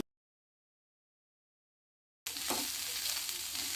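Corn drops into hot oil after a moment of silence, setting off a steady, loud sizzle with a few faint stirring scrapes.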